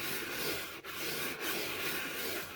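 Continuous gritty scraping and rubbing of a dirty computer mouse sliding across a Razer Invicta Mercury mouse mat, close and fairly quiet, with two brief pauses.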